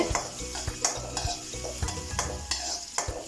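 Chopped ginger and garlic fry in a pan for a Kerala Christmas chicken dish, sizzling close by while a metal spoon clinks and scrapes against the pan in a quick, uneven rhythm.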